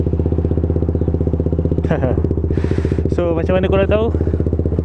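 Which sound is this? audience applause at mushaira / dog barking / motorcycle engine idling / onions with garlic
motorcycle engine idling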